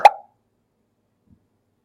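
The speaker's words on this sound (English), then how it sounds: "This Zoop sound will play first, then the next sound will play." The Zoop sound effect from Scratch plays once as a short, bright pop-like blip, followed by near silence.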